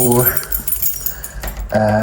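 Keys jingle and clink as someone fumbles with a lock in the dark, a close rattling that comes in short bursts with brief pauses between them.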